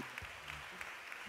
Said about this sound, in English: Can you give us a round of applause, please?